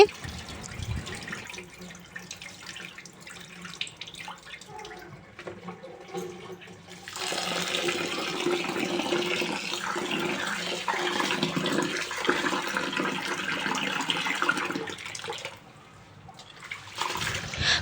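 Rice is washed by hand and the cloudy water poured out, with wet swishing and rubbing at first, then a sustained splashing pour of water lasting several seconds before tapering off, under intermittent talking.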